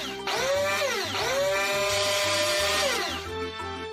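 A cartoon dentist's drill whirs in a high rising whine that dips and swells twice, loud and sustained for a few seconds before winding down.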